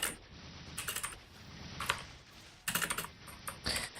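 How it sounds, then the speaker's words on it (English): A new computer keyboard is typed on in quick, uneven bursts of clicking keystrokes separated by short pauses, close and fairly quiet, with no talking. "Back home, got your new keyboard"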